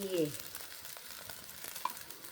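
Old-style Thai fried rice being stir-fried in a pan, a soft continuous sizzle with light scraping of the spatula, fairly quiet and close, a brief voice at the very start.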